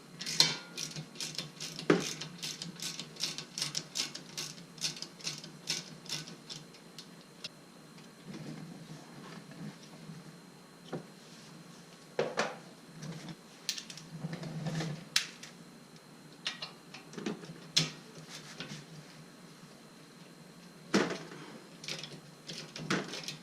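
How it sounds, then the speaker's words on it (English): Bolts being worked loose with a ratchet during front wheel bearing replacement on an R50 Mini Cooper, giving many quick, sharp clicks that come in dense bursts and scattered single ticks, close and fairly quiet, with no talking. "remove the bolts."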